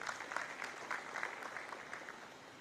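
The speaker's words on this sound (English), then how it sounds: "another round of applause for Ms. Susan." Applause at a social protection sector workshop, a room of people clapping steadily at moderate distance, fairly soft and continuous for a few seconds with no talk over it.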